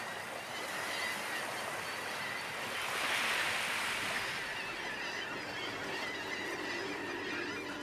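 Ocean surf washes steadily onto a shoreline where sandpipers feed on horseshoe crab eggs, a dense hissing roar swelling in the middle, with busy bird calls mixed into the wash.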